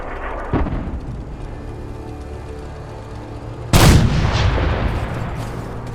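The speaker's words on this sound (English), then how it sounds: "There's a pretty impressive amount of artillery, granted." Artillery fire and explosions in the video game Fallout 4, booming and rumbling in the background, with a sudden loud explosion burst partway through followed by continuing gunfire.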